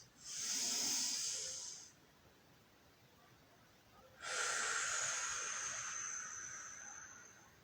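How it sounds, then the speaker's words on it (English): Two long, breathy exhalations out through the mouth during yoga rescue breaths, each a soft airy rush lasting over a second, separated by a quiet pause, close and clear with no talking. "Doing our rescue breaths."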